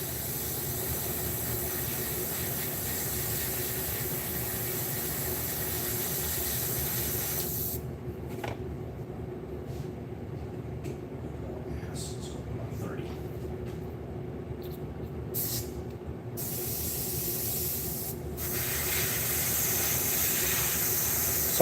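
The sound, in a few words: airbrush spraying paint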